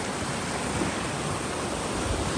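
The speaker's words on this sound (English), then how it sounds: "Water is rushing today." Continuous broadband rush of a fast-flowing, muddy, rain-swollen stream, close and steady with no pauses or voices.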